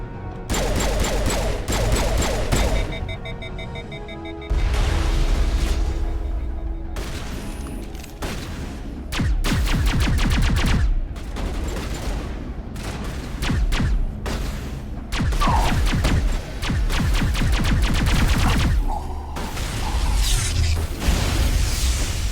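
Gunfire in the Mass Effect video game, with repeated bursts of sharp shots and booming impacts coming in clusters and separated by brief lulls, loud and close throughout.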